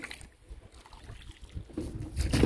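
A rowboat crossing a river, with quiet, uneven paddle strokes and soft water sounds that build into louder splashes and knocks near the end.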